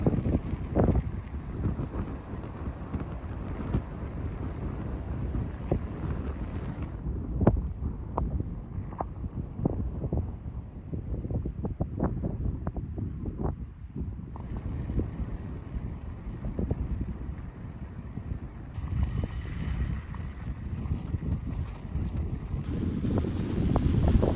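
Steady outdoor wind on a Camino de Santiago walking trail rumbles and buffets the microphone throughout, a continuous gusty roar with no one speaking.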